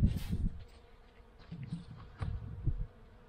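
Bees buzz in short, low bursts inside a winter beehive during a February inspection, a close, faint droning that rises and fades in a few pulses without talk.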